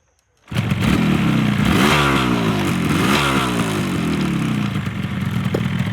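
A fully restored 1981 Yamaha RD350LC two-stroke motorcycle, already warm, fires up after a short silence and runs on loudly and close, with rising and falling revs through the first few seconds before settling into a steady, rough idle.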